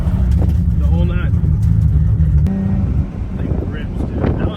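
A rat rod Toyota Supra with a dusty windshield accelerates hard, its engine roaring loud from inside the car before the pull eases, with voices talking over it.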